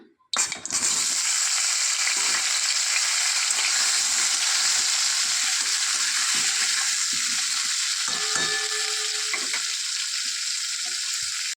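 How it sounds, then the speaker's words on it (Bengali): Pieces of pointed gourd (potol) frying in oil in a kadai, seasoned with salt and turmeric, set off by a sharp initial hiss and then a loud, continuous close sizzle with light crackles and a few utensil clinks near the end. "ওই তেলে পটলগুলোও ভেজে নেব।"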